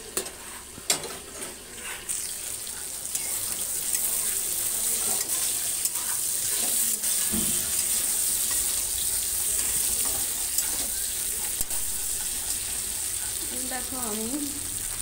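Potato, aubergine, bitter gourd and drumstick vegetables sauté in a pan with mustard paste, a steady close sizzle with occasional sharp utensil clinks and stirring, and a brief voice-like sound near the end.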